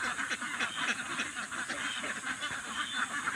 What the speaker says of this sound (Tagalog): pinapalabas na natin yung mga alagang itik natin